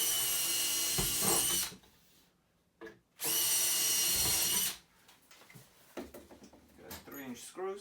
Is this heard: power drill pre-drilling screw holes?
yes